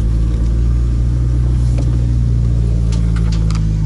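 An Opel Corsa A GSI race car engine fires up after more than ten years of standing, a loud, steady low rumble with deep idling throb and a few brief higher clanks over it.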